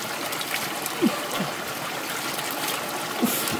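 Clear water flowing in a forest stream, a steady close trickling and burbling rush that carries on without a break, with a couple of faint short vocal sounds over it.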